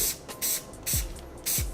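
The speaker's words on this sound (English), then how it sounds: "And then you get your disinfectant spray and you spray it." Disinfectant sprayed onto barber hair clippers in three short, sharp hissing bursts close by, each spray ending with a small clatter, and quiet pauses between them.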